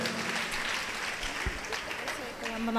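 A congregation claps loudly in praise of God during a healing testimony service, with dense, steady applause and a few voices and cries mixed in.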